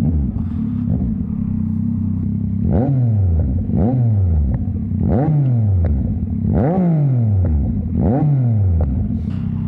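A 2021 Yamaha MT-09 motorcycle rides by with a loud, steady engine drone, its pitch swooping repeatedly as the throttle rises and falls in rhythmic bursts, close and continuous with no talk.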